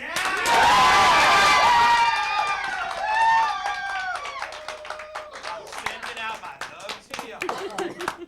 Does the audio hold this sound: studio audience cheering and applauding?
yes